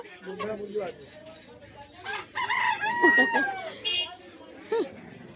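Hens cluck and a rooster crows at a busy village market, the calls rising in short bursts over quiet murmuring voices in the background.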